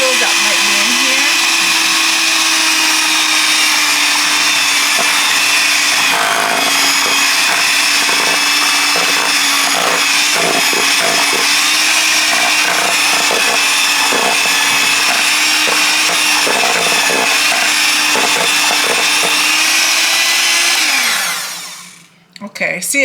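A handheld mixer whirs steadily at high speed through homemade ice cream, breaking up ice crystals, loud and close with a constant motor whine and faint rattles, then winds down and stops near the end.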